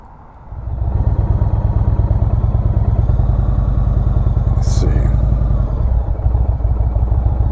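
A motorcycle putters through slow race practice, its engine loud and close after a quick rev at the start, with a steady low chugging rhythm of throttle and clutch at walking pace.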